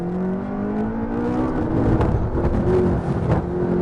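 McLaren MP4-12C accelerating hard on a track in track mode, a loud, steady engine roar with rising pitch and a whirring edge, heard from inside the car with no talk.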